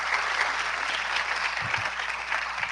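Audience at a global biodiversity summit applauds, a dense, steady clapping throughout at close range, with a few deeper thumps.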